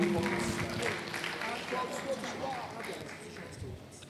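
Applause from a lecture audience at a commemorative June 12 event, a broad steady patter of many hands that fades gradually over a few seconds, with voices murmuring underneath.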